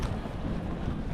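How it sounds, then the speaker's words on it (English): Steady wind buffeting in a city street in central Belgrade, a constant rushing roar across the microphone with no pauses, loud and close with no voices over it. "Wind's picking up a bit. Getting quite windy"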